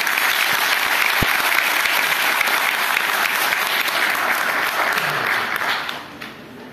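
Crowd applause at a student federation conference, a dense, loud, continuous wash of clapping that holds steady and tapers off at the end.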